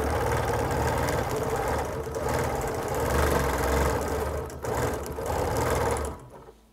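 A sewing machine stitches a quilt guided by round rulers, its steady mechanical whirr running close and continuous before stopping abruptly at the end.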